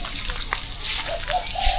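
Tap water runs steadily into a pool being filled, a continuous splashing rush with a few brief higher tones, close and moderately loud with no talk over it.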